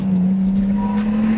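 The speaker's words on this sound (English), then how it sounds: "our driver shows us the true power of the R32, reminding us why this car is so legendary." A Nissan Skyline R32 accelerates hard at night in Tokyo near Daikoku parking, its engine a loud steady drone heard up close throughout.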